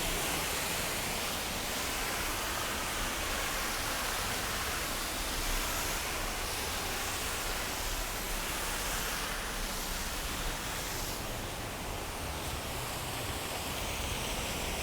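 Waterfalls at the Abîme de Bramabiau roar with a dense, steady rush of falling water, loud and unbroken throughout.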